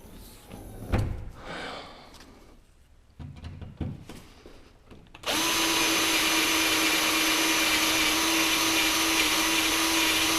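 A drill bit bores into metal on a Porsche 944 during an LS engine swap. Quiet shop handling noises give way to a loud, steady, continuous whine that holds to the end.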